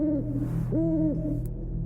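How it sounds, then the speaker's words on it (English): An owl that seems to be in pain hoots outdoors at night, giving two drawn-out tonal hoots, fairly loud and near, with no voices. "the hooting of an owl breaks it"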